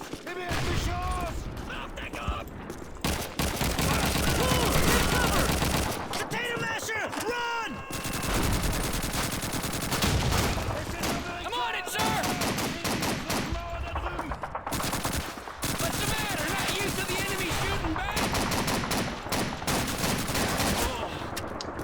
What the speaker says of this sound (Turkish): Arkadaş bir şarjör boşalttım ya bir adamın kafasına sıkmak için.